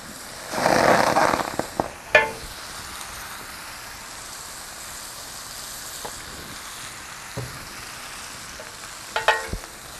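Food searing and sizzling in a pan in a kitchen, a loud hiss burst at the start that settles into a faint steady sizzle, punctuated by scattered sharp clicks and clatters of utensils, no talking.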